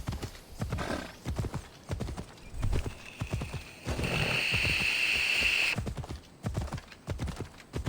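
Rhythmic clip-clop of horse hooves trotting steadily in a video game, with a brief horse whinny in the middle; no one speaks.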